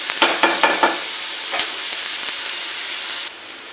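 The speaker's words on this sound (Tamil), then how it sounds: "பார்த்தீங்கன்னா வெங்காயம் வெந்துட்டுருக்கு." Onions frying in a pan for an ivy gourd thokku, stirred toward golden brown; a steady, loud sizzle runs throughout, with several sharp scraping stir strokes near the start and a sudden drop in level near the end.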